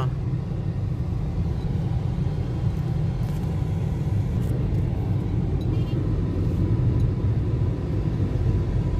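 Heavy road traffic near UP during a ride from Zabarte to Cardona, Rizal: a dense, continuous low rumble of car engines fills the whole stretch without letup, loud and close.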